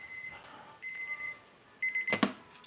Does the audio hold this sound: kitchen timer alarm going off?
yes